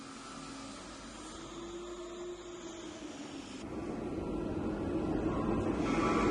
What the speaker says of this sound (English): The plastic is sprayed evenly around the plaster by a vacuum pump.